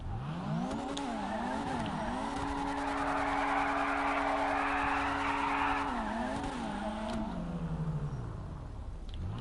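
Toyota Supra (Jester Classic) in GTA 5 revving its engine, rising and holding at high pitch before dropping, with tire squeal and a steady loud roar throughout.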